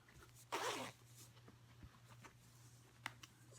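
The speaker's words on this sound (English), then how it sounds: "This is a hidden zipper" A hidden zipper on a cotton linen blend pocket is pulled once in a quick, close rasp, followed by quiet handling and small clicks of the fabric and zipper.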